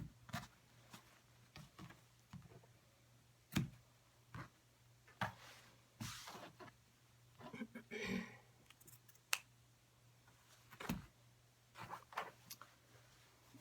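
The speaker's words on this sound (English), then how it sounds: "I'm going to trim off these where the seam allowance came in just to make it even" Scissors snip through the fabric seam allowance of a continuous bias tube in a series of quiet, close, irregular clicks and cuts, with short pauses between the snips.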